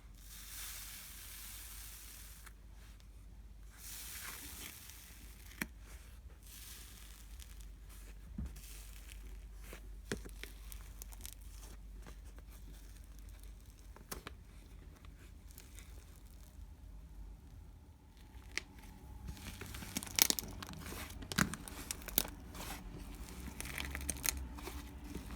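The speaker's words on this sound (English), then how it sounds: "so yeah, let's crunch it." Iceberg slime left to harden for two days is crunched and crinkled by hand, giving a long run of close, crackly crumpling and brittle snaps that grow busier and louder toward the end.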